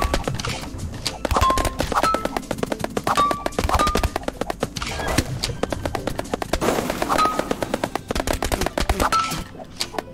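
Rapid, sustained gunfire from the video game Dungeon Munchies, with dense bursts of shots and small electronic blips running continuously for the whole stretch at loud, steady volume.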